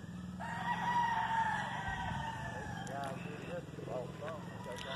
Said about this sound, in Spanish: Unos gallos muy, muy competitivos,